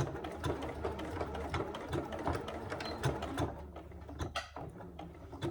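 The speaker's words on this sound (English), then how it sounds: "So I'm just going to start with a back stitch." A sewing machine runs steadily and close, back-stitching a handbag with pink thread for the lining, its motor and needle keeping up a rapid mechanical chatter with a few clicks near the end.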